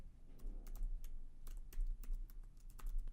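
Someone types a Java class name on a computer keyboard in a quiet room. Quick, irregular key taps sound close and crisp, in a short burst with no talking.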